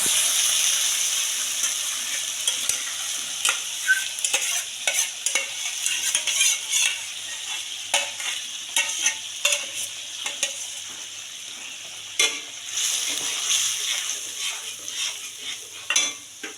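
A spice paste, added after nigella seeds and turmeric, sizzles in a pan while being stirred, with repeated scraping and clinking strokes over a continuous frying hiss, close and fairly loud.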